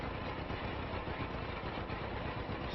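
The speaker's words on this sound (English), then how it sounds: "It's a bit of an hill on this end, so slows the tractor down a little" A 1949 John Deere A tractor in Farming Simulator 25 labors up a hill while rolling wheat, its engine a steady, muffled low drone with no breaks.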